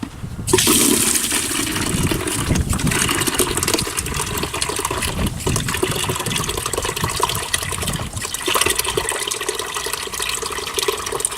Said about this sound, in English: this water that's coming out is completely clear